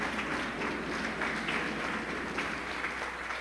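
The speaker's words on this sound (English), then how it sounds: "Nice round of applause from the crowd" Crowd applause during a 1995 women's college basketball game, MCC vs. Graceland, steady, broad clapping from the stands that holds at an even level throughout with no break.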